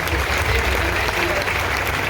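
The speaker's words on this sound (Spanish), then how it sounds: "fuertes aplausos" A crowd of parishioners at a priestly ordination gives loud applause for a parish sector, a short burst of dense, sustained clapping with murmured voices underneath.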